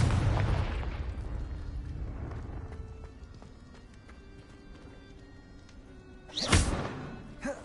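Confringo blasting spell in Hogwarts Legacy, a sharp burst that opens loud before fading into quieter in-game rumbling, then a second booming explosion hits near the end, brief and forceful.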